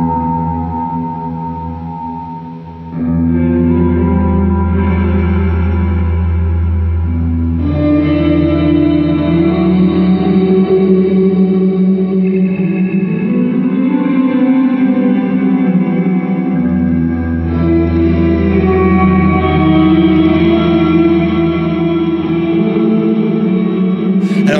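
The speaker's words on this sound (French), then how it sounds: "c'est de la reverb, il y a de la shimmer, il y a de la modulation" Guitar played through an effects pedal with reverb, shimmer and modulation, producing lush, washy sustained chords with long echoing tails and swirling movement, loud and continuous with no talk.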